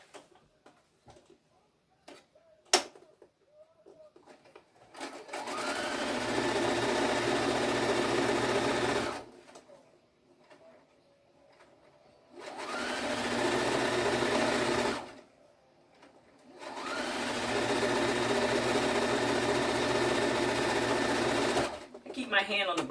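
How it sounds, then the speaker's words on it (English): A sewing machine stitches a long quilt seam in three sustained whirring bursts separated by short pauses, with faint ticks and handling noise between runs and no talk. "And then you sew your long seam."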